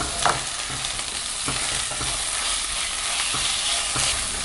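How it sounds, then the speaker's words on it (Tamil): Ginger garlic paste and chillies sizzle and fry in hot oil with a steady crackle, punctuated by a few light scrapes of stirring. "பச்சை வாசம் போகிற வரைக்கும் நல்லா வதக்கிக்கலாம்."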